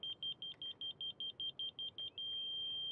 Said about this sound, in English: Start sliding the receiver up against the grade rod. I start hearing the tone. There's the solid tone right there.